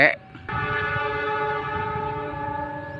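A Papandayan passenger train on the Gambir–Garut route arrives along straight track through rice fields. A loud, sustained horn blast holds steady for about two and a half seconds over the rumble of the approaching train, after a brief opening burst.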